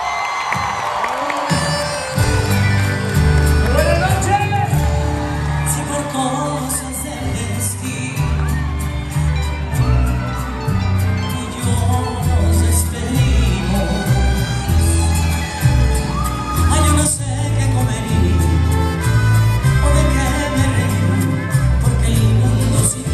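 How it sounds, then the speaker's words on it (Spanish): Audience applauding and cheering for a performer at a live show, a loud, steady wash of crowd noise with whoops and shouts running throughout, mixed with music and bangs. "fuerte aplauso a mi hijo Bastian."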